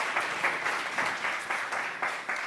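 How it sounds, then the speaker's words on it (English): A church audience claps at the start of a morning gathering, steady applause with a loosely rhythmic pulse of many hands, moderately loud and without talk. "Can we clap? Let's clap."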